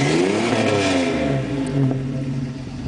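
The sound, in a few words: engine revving through full exhaust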